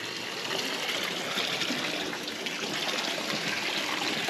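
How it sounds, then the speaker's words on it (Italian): Water flows steadily through a channel by the boat moorings at Lake Molveno, a constant broadband rush with no pauses, fairly close, with no voices over it. "hanno canalizzato l'acqua dentro in modo tale che poi dopo viene fuori e la riciclano, la riutilizzano."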